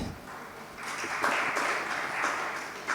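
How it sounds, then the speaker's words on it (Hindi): An audience claps during a religious discourse at a Das Lakshan festival gathering, a burst of applause that swells after a quiet start and continues in waves to the end. "तालियां बजा रहे हो"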